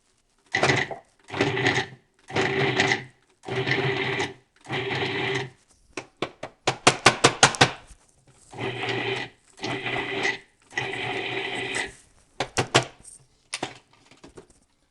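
Food processor pulsing cold butter into dry flour for a galette crust, about eight loud bursts of whirring motor and chopping, each a second or so, separated by short pauses, with a quick run of rapid pulses midway.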